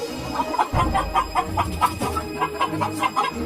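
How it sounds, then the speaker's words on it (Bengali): Chickens in a coop cluck loudly and rapidly in a busy, agitated chorus, close up and continuous, with no talk. "মুরগিগুলো খুব জোরে জোরে ডাকাডাকি করতে শুরু করে।"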